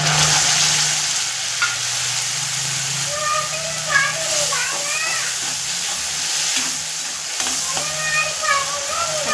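Tomato paste sizzles and fries steadily in hot oil over previously browned onions while biryani is cooked, a loud continuous hiss with faint stirring, background voices underneath.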